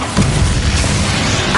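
A loud, dense blast from the Bombarda spell in the Hogwarts Legacy video game, a single booming burst that rumbles on with heavy low-end for over a second.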